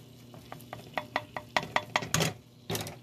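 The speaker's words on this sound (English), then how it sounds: "So you fry your flour to the color you want" Flour stirred and frying in a pan as the base for mushroom gravy, giving a run of close, rhythmic scraping strokes with soft sizzle beneath, ending in a brief louder rush, no voices.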